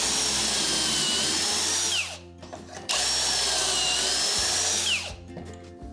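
A power drill drives pocket screws into a wooden ceiling beam in two long whirring bursts, each winding down with a falling pitch, with a short pause between them.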